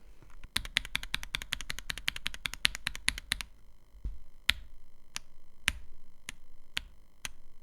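Typing on a Wooting 60 HE+ keyboard fitted with Lacquer 45 switches: a quick run of crisp, close keystrokes, then slower individual presses with each clack separated by gaps, heard alone without talking.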